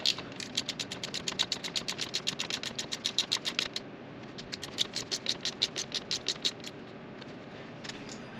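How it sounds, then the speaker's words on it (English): A ratchet wrench tightens bolts on a KTM 890 motorcycle, its quick, even runs of close metallic clicks pausing briefly midway before resuming in shorter bursts, with no voices. "Let's go ahead and tighten down these bolts."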